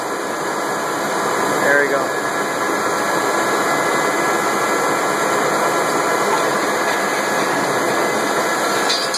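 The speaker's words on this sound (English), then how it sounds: "I thought it was the gears meshing." A Taiyo Seiki turret lathe runs with its gears meshing, giving a loud, steady mechanical whine and hiss with high tonal hum that holds nearly constant, close up, under faint background voice.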